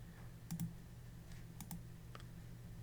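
Quiet computer keyboard presses sound as a few sharp, isolated clicks spaced apart over a low steady hum, soft and close.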